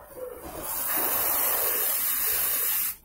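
A spray paint can hisses while painting, one long continuous close burst of hiss that starts abruptly and stops sharply near the end, alone with no talk.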